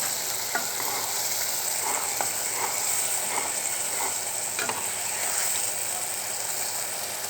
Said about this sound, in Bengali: মরিচের গুঁড়া, ধনিয়ার গুঁড়া, হলুদের গুঁড়া সব দিয়ে ভালো করে কষিয়ে নিচ্ছি